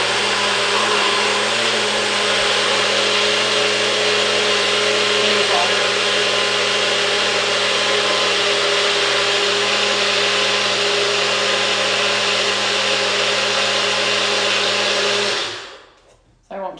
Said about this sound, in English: Keep blending just to save your guys' ears